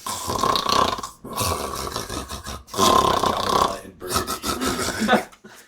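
A voice imitates the loud snoring of a sleeping monstrous guard with scaly skin and a long black tongue, in four long, rough, rasping snores separated by short pauses.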